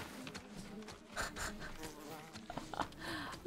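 Insects buzz steadily in Ghost of Tsushima, a continuous droning hum that swells and fades at close range, with no voices.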